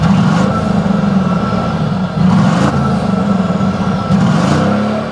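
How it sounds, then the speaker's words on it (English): A 2013 Mercedes-Benz GL 550 twin-turbo engine runs close by with a loud, steady low rumble that swells slightly a few times, as if lightly revved, with no talking. "That is the twin turbo with the same engine as the SL. So let's see what it sounds like. Start her up."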